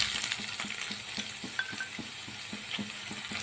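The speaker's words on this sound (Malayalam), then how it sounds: "എണ്ണ ചൂടായിട്ടുണ്ട്. ഇനി നമുക്കിതിലേക്ക് ഉള്ളിടാം." Sliced onions sizzle in hot oil in a pan while a spoon stirs them in a steady rhythm of soft scraping taps, the frying hiss continuous and close.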